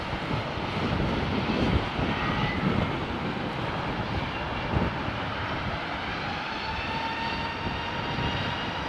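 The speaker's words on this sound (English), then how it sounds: "Lovely old Trent powered 777." A Rolls-Royce Trent powered Boeing 777 takes off at London Heathrow, its engines giving a broad, steady roar with a faint whine, loud and sustained throughout, with no speech.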